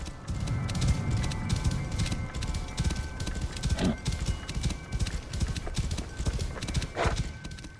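Horse hooves clip-clop at a steady running pace in Assassin's Creed, loud and continuous, with a couple of brief neighs mixed in.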